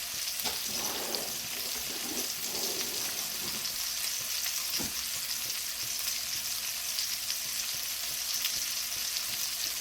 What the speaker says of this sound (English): Dutch oven or whatever pot you're using, leave it alone so it sears